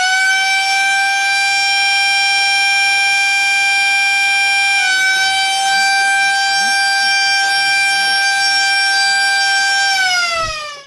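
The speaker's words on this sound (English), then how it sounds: "We have a Siren made with reverse engineering." A loud mechanical industrial siren driven by a power drill wails at a steady pitch, dipping slightly midway, then winds down as it spins to a stop.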